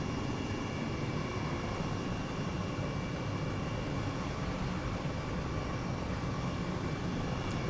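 A steady, broad rotor-and-engine drone from an Airbus H135 helicopter in flight in Microsoft Flight Simulator, continuous and even in loudness with no talking.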